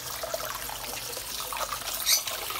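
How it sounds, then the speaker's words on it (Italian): Cooked pasta being drained and cooled under cold running water in a kitchen sink, a steady faint splashing trickle with a brief brighter gush near the end, no talk. "adesso andiamo a scolare la pasta e la raffredderemo con dell'acqua fredda per fermare la cottura"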